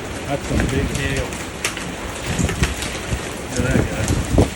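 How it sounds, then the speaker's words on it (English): Heavy hailstorm in Ohio, with large hailstones pelting down in a dense, continuous rattle of sharp impacts, loud and close, while gusts buffet the microphone. "Talk about a hailstorm, that's a freaking hail."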